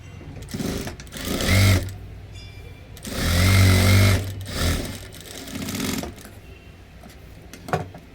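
A sewing machine stitches tucks in a blouse in several short runs, each a close, loud, rapid mechanical whir of about half a second to a second and a half, separated by pauses and light handling clicks.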